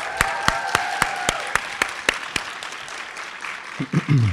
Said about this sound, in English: I want to give them a round of applause, please.